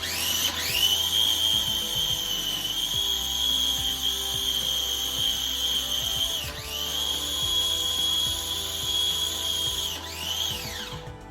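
A food processor grinds basil pesto with olive oil in a loud, steady whine that runs alone for several seconds, the motor pitch dropping at two brief pauses before spinning up again.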